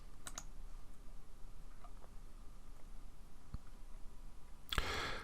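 Sparse, close clicks of a computer mouse in a mobile app builder, a few separate taps over a quiet background, ending in a louder burst of clicks, with no voices.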